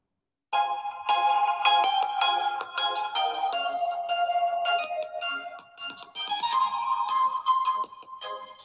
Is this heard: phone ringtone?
yes